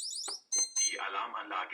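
An Abus Secvest wireless alarm system goes off with piercing high electronic beeps in short bursts, then a voice speaks over the continuing alarm tone.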